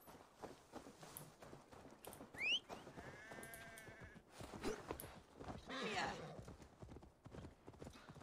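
Horse in the video game Assassin's Creed Valhalla: hooves clip-clopping in an irregular walking rhythm with a brief whinny, moderately near and quiet, mixed with ambient game sounds.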